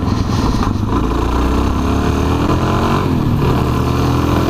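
A Suzuki DRZ400SM motorcycle engine drones loud and close while being ridden, its pitch rising and shifting as it accelerates, with wind rush and no speech.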